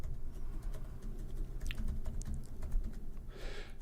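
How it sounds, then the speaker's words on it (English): Soft, quick keystrokes patter on a computer keyboard in a quiet room, a faint irregular run of clicks over low background hum. "Okay, I'm typing it in, Rich."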